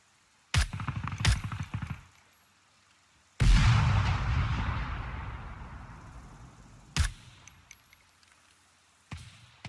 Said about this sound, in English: Gotta shoot those muzzle flashes.